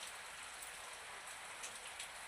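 Steady rain falls in a dense, even hiss of many drops on surfaces, loud and continuous with no voices over it.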